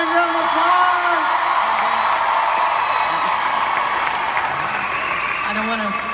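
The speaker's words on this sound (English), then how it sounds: "give a big round of applause!" A crowd applauds steadily, with scattered whoops and cheers over the continuous clapping.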